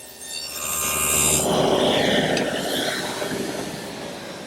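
A table saw fitted with a dado blade cuts a groove down the center of wooden stock on a second pass. A steady, loud, rushing whine holds for about four seconds, with no voices.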